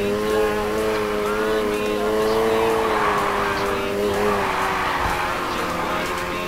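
Car engine in Need for Speed Heat racing game revving with a sustained harmonic whine, shifting pitch as tyres skid, loud and continuous throughout.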